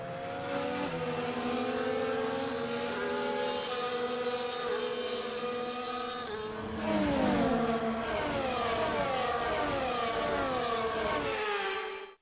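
Formula 1 cars in the F1 24 video game roll through a formation lap at Miami International Autodrome, several engines whining and shifting pitch in overlapping layers, steady and fairly loud with no talking.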